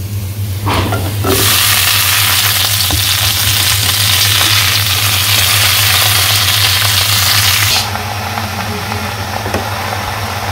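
A loud, steady sizzle fills the clip as greens hit hot oil, the hiss surging broadband and then easing slightly near the end, with no talking.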